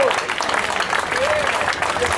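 Applause from a Las Vegas Strip audience celebrating Tony Bennett's 90th birthday, dense sustained clapping throughout with voices mixed in.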